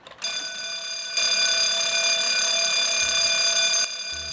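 A fire alarm sounds in an aged care facility: a loud, steady electronic tone that starts abruptly, swells louder for a stretch, then drops back slightly, with no voices.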